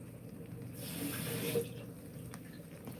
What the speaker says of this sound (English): I really don't need to put no water in here. But I am, because I need to clean out my jar